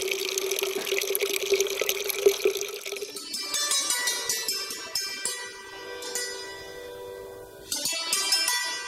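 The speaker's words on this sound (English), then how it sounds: "Whether it's dripping water of a spring" Spring water trickles and drips steadily, close and fairly soft, with a clear running flow that later turns into brighter, splashier pattering.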